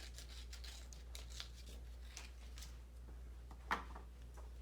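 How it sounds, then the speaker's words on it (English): Scissors snip out a paper eye for a craft frog, making quiet, close, irregular cutting clicks and rustles over a low steady hum, with one sharper snip near the end. "Then you will continue to cut your other eye out."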